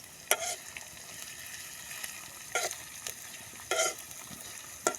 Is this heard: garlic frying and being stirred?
yes